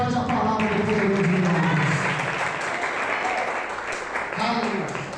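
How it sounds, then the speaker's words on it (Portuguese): A church audience at a seminar applauds loudly and steadily for several seconds, the dense clapping joined by a voice speaking over it. "aplauda bem forte a palavra do Deus"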